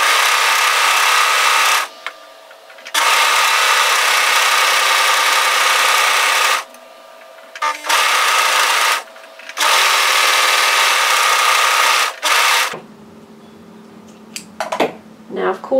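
An overlocker stitches around the outside edge of a V-neck top in loud, steady bursts: three long runs of about two seconds, four seconds and three seconds, with short pauses between them, then a quieter stretch of small handling noises.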